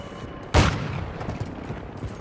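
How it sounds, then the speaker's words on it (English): A sentry gun fires in Call of Duty: Modern Warfare II, heard as one sharp, heavy report that rings out over a steady battlefield din, followed by a few fainter thuds. "Sentry gun deployed!"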